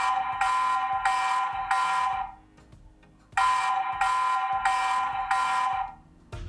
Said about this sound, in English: will trigger an audible alarm and light system to warn the intruder and alert others to danger